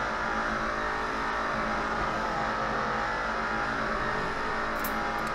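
Shelby Cobra 427 S/C engine in a racing video game at the Nurburgring, a steady loud droning roar held at speed without a break, with no one talking.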